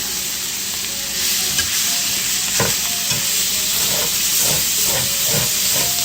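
Garden vegetables sauteing in a pan for a one-pan cod dish, a continuous bright hiss and sizzle broken by several soft stirring knocks, close and fairly loud, with no talking.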